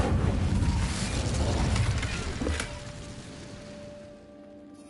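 Incendio fire spell cast in Hogwarts Legacy, a roaring burst of flame that crackles loudly, then tails off into a fading hiss and faint mechanical ring.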